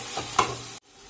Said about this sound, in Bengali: ভালো করে এটাকে নাড়িয়ে ভালো করে কষিয়ে নিতে হবে, যতক্ষণ না একটু হয়ে যাচ্ছে কচুটা।